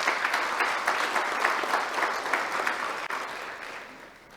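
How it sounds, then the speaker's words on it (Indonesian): An audience at an open senate ceremony of a theological college in Jayapura claps for the parents, steady and fairly distant applause that carries on throughout and begins to thin near the end. "Mari kita beri aplaus untuk orang tua kita."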